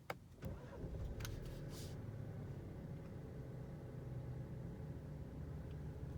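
An Alfa Romeo Stelvio engine cranks briefly and catches, then settles into a steady, low idle rumble that runs to the end, close and alone with no talk.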